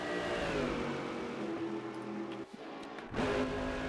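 Mercedes-AMG GT3 race car in the Rennsport racing game on the Nordschleife, its engine droning steadily with harmonic tones rising and falling as it revs, a brief dip and gearshift before the note surges again.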